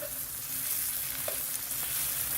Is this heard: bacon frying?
yes